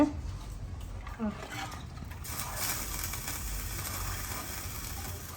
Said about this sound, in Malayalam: മീൻകറി തിളച്ചോണ്ടിരിക്കണു.